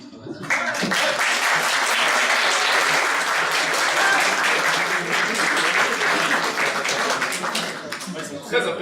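An audience at an improvisation theatre match claps loudly for the red team, a dense sustained wave of applause with scattered cheers that swells quickly and holds for several seconds before tapering.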